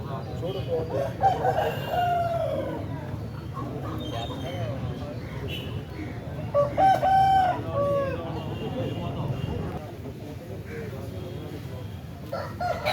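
A rooster crows loudly a couple of times amid a busy Saturday country-chicken market din in Mamidada, with people talking nearby and other chickens clucking in the background.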